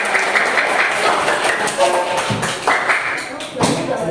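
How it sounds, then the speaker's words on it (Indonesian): Classroom of schoolchildren clapping together for themselves, a dense, steady patter of many small hands throughout with a few louder bursts, close and lively. "tepuk tangan lagi buat kita ya."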